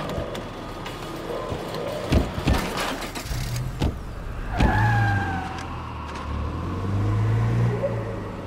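A car drives in the video game State of Decay 2, a steady engine rumble with thumps and clunks, and a rising whine as it accelerates.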